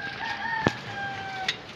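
A rooster crows in the distance, a long drawn-out call over quiet outdoor background with a couple of short sharp knocks.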